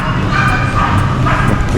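A dog barks in quick, repeated yaps close by, over a constant background noise.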